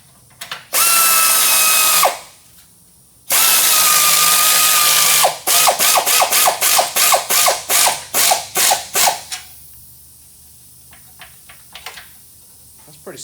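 Pneumatic air ratchet running in two long loud whirring bursts, then a rapid series of short pulses as it tightens, ending in quieter background noise.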